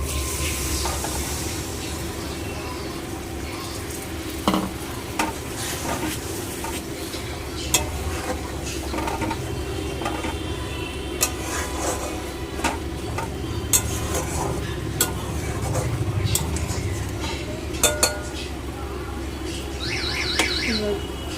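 Hot water poured into fried, well-cooked spice paste for a homestyle katla fish kalia, simmering with a steady low bubbling hiss, occasional stirring clinks and light kitchen clatter close by.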